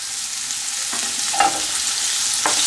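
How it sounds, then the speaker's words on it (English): Crushed ginger and garlic fry in hot oil with browning onions in a pan, a loud steady sizzle broken by a few light stirring scrapes, with no talk. "Before that I am going to add our crushed ginger and garlic."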